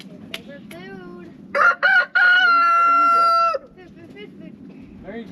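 A rooster crows loudly and close by in a farmyard, a few short clucks leading into one long sustained cock-a-doodle-doo, with quiet background noise before and after.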